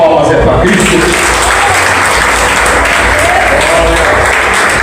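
A church congregation applauds in praise of Christ, a steady, loud wash of clapping that fills the whole stretch, with voices mixed in beneath it.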